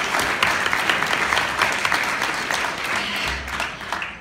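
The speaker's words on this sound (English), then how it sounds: "applause because we look good." An indoor audience applauding together at a gathering, loud dense clapping that stays steady for several seconds before thinning out near the end.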